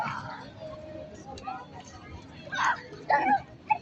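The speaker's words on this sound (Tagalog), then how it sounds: "Lagi namang may aso dito." A dog barks a few times in quick yips near the end, moderately close, over background chatter and children's voices.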